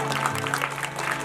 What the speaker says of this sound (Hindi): ताली बजाओ तो सारे बजाओ वरना कोई मत बजाओ